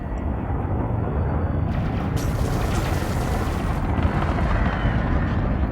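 Weapons fire from system forces in a space combat video game, a dense, heavy rumbling barrage of booms that runs continuously and loudly, with a brighter burst joining partway through.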